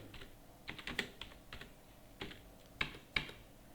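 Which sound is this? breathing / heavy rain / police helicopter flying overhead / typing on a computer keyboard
typing on a computer keyboard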